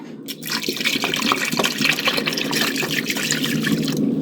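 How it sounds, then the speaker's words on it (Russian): Milk being poured into a pot of kefir cheese and sour cream, a steady liquid splashing and trickling close by with no talk, running continuously for a few seconds. "И заливаем молоко"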